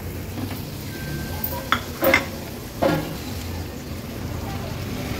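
Prawns hit a hot pan of masala and sizzle steadily, with a few sharp clinks and scrapes of a utensil stirring against the pan.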